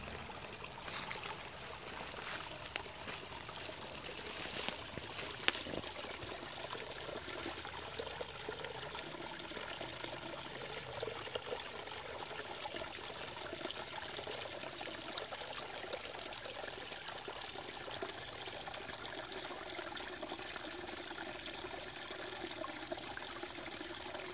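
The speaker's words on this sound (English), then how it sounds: "Gurgling in the upper falls." Water gurgles and splashes steadily through the upper falls of a small backyard stream lined with bamboo, a continuous close trickling rush with no voices.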